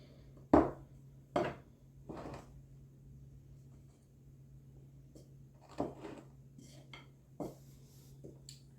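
Flour and baking soda are stirred in a bowl for zucchini bread, heard as a handful of sharp spoon-on-bowl knocks and scrapes, close but quiet, spaced irregularly over a low steady hum.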